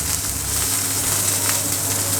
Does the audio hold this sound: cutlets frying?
yes